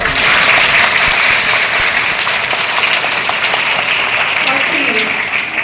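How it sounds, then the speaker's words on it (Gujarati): Loud, sustained applause from a large audience at a school entrance festival, dense steady clapping filling the whole stretch with a few voices calling out underneath. "પહેલા તમારા બધા માટે જોરદાર તાળી"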